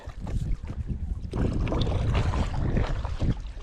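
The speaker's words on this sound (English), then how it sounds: "It is so windy right now." Strong wind buffets the microphone in a loud, continuous roar with gusty surges and low rumbling while paddling, with some faint splashing underneath.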